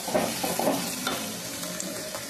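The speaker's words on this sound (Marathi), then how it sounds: "आपल्याला कांदा चांगला फ्राय करून घ्यायचा आहे." Onion frying in a pan for a banana flower dish, stirred with a few scraping strokes over a steady soft sizzle, close and fairly quiet, no voices.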